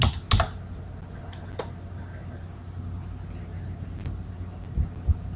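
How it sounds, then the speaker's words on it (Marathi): Keys tapped on a computer keyboard while typing Marathi text, a few quick clicks near the start and scattered taps later over a steady low hum, faint and close. "मी तुम्हाला इथं टाईपसुद्धा करून दाखवतो"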